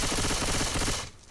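A fast, loud burst of automatic gunfire from Left 4 Dead 2 rattles in a steady rapid stream for about a second, then cuts off abruptly, with no talk over it.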